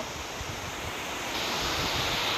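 Strong wind of an approaching storm roars steadily and close in a continuous broadband rush that swells louder partway through, with no voices.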